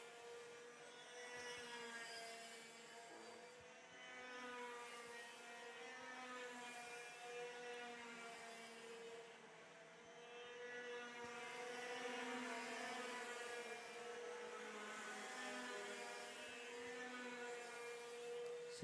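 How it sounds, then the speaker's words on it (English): Racing kart engines at a KA2 and KZ championship round pass the commentary area in a steady, loud whine, the droning pitch swelling and fading as karts come by one after another with no talk over it. "So you can hear the different engine types that are being used as they come past the commentary area."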